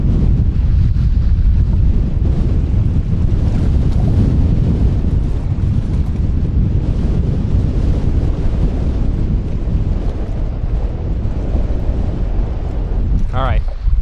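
Strong gusts batter the microphone on a wet fishing jetty, a loud continuous low rumbling buffet with little letup, while someone speaks over it.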